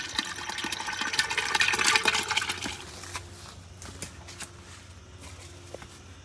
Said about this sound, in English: Need to add water here.